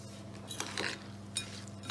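Cream and chia seeds being stirred together in a bowl with a spoon, heard as faint, soft scrapes and light clinks against the bowl over a quiet background.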